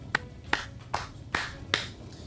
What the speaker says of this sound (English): You can hear me clap now.